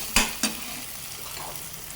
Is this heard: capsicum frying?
yes